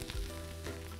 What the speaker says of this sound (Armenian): Ստեյք պատրաստելիս միսը շատ շուրջ ենք տալիս տաբակի մեջ